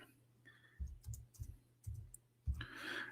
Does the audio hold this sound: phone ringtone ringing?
no